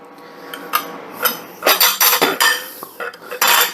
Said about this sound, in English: And if you mush up the beans